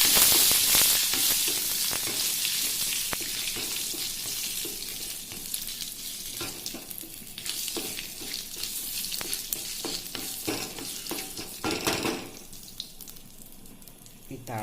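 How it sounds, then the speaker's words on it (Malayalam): Curry leaves drop into hot oil with popped mustard seeds while tempering for jackfruit pulisseri; a loud sizzle bursts at the start and settles into steady crackling frying, with brief stirring clatter and a fresh flare near the end. "കറിവേപ്പില കൂടി ചേർത്ത് കൊടുക്കാം."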